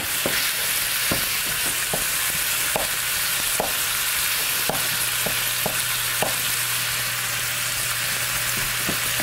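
Ground beef browns in a pan in its own fat with a constant loud sizzle. Sharp, irregular scrapes and clacks of a utensil stirring and breaking up the meat cut through it, with no voices.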